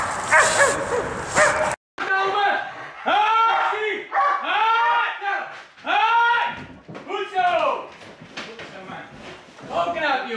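A Malinois in bite training gives a run of sharp, close barks and yips, with a brief noisy burst before a short gap.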